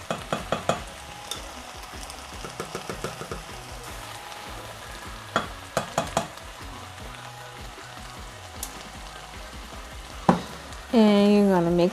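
Garlic gets stirred into frying peppers and onions, bringing a steady sizzle with clusters of sharp spoon clacks against the pan, and a tonal whine creeps in at the very end.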